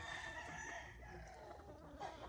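Fighting roosters of a cockfighting breed crow and cluck faintly at a close distance, in a short burst of overlapping calls.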